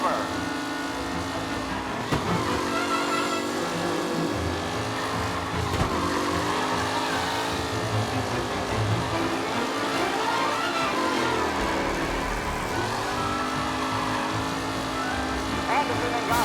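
Race cars in Mafia Definitive Edition speeding around a track on the final lap: continuous loud engine whine with shifting revs and gear changes, several cars blending together, with occasional tire squeal beneath a voice speaking over it.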